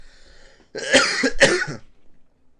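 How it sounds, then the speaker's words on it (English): Two harsh, raspy coughs close to the microphone, one right after the other, with quiet around them. "I got a bad cough."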